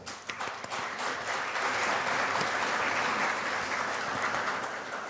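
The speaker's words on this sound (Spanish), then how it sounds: "el doctor Jorge Alejandro Vázquez Caicedo, a quienes recibimos con un fuerte aplauso." A large academic conference audience applauds steadily, dense clapping that swells quickly and holds at full strength for several seconds before tapering slightly.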